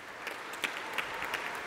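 Faint, steady applause from a seated audience at a talk, a soft wash of many hands clapping with a few slightly louder claps standing out, distant and thin throughout.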